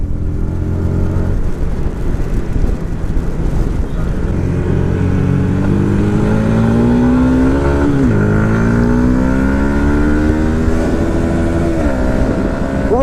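A 2018 Yamaha MT 125 motorcycle accelerating at full throttle, a loud continuous engine drone rising steadily in pitch with a shift dip midway, mixed with strong wind rush from a ride.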